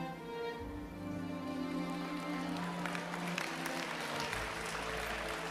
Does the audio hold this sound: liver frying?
no